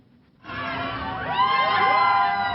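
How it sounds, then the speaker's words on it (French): Visitors on a Toy Story Playland ride at Disneyland Paris scream and shout with joy, a burst of many high excited voices that starts abruptly and rises, loud and close, with rising and falling pitch. "Cris de joie, ivresse de la vitesse et regards inquiets, ces visiteurs sont des privilégiés."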